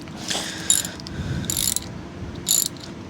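A socket wrench reinstalls the spark plug on a John Deere D125 riding mower, ratcheting in three short clicking bursts with brief pauses, close and fairly quiet.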